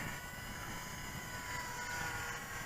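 A Jasco Spotter biplane model's small motor runs at full throttle while the plane battles into wind, a steady thin buzzing drone heard from a distance, faint and unbroken.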